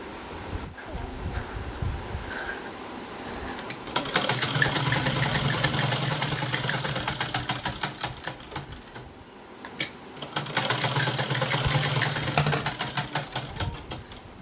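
A domestic sewing machine stitches a suit at home in two long, steady rattling runs, close and moderately loud, with a brief pause between them and no talk.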